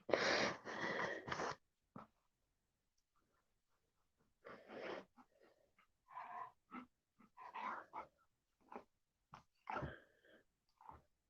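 A pet dog snorts, wheezes and grunts in short bursts near the microphone, with quiet pauses between the noises in a still room at night.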